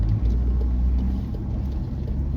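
Cars on a busy country main road from Boorowa on a Friday afternoon, a continuous deep rumble of traffic going by at close range with no talk.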